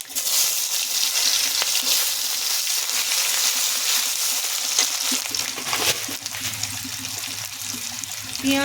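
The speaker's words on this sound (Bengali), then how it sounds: "কড়াই তেল দেব, শুকনো লঙ্কা, তেজপাতা, 5 ফোড়ন, পেঁয়াজ," Dry red chillies, bay leaf, panch phoron and onion frying in hot oil in a kadai, a steady dense sizzle close by with light stirring throughout.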